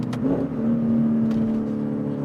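A Lexus IS-F engine pulls hard under acceleration after a downshift, a steady, loud, droning exhaust note with a rising tone that holds through the whole stretch, heard from inside the car with no talking.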